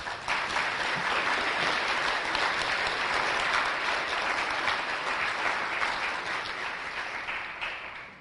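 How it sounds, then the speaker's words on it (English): An audience claps steadily for honorable mention recipients at an award recognition ceremony, a sustained wash of applause that holds level and then tapers slightly toward the end. "feel free to clap all along the way"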